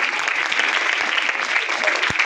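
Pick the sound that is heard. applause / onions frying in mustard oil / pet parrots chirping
applause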